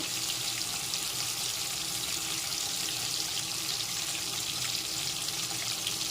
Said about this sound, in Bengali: আমি মশলাটার মধ্যে অল্প জল মিশিয়ে নিচ্ছি গুঁড়ো মশলাগুলোর মধ্যে